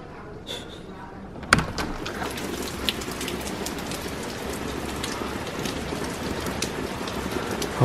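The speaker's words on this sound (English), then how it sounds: "it is obviously raining right now" Steady rain patters on a surface after a sudden sharp knock, a continuous hiss of drops with faint voices in the background.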